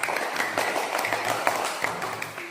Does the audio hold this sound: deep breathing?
no